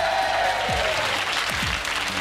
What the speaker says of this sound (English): Everybody's cheering you on from the hometown.